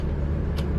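A BMW E30 drives along back roads with a steady, low engine drone and road rumble, continuous and close, with a brief airy hiss near the end.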